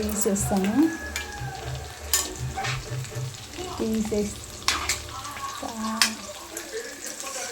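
Chicken leg pieces frying in a pan for curry, a soft continuous sizzle punctuated by occasional clinks and scraping stirs, fairly quiet and close throughout.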